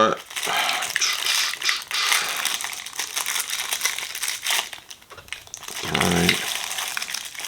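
Plastic packaging around Logitech Flight Throttle Quadrant knobs being cut open, close crinkling and crackling plastic with clicky rustles, continuous and fairly loud, with a brief low voice or thump near the end.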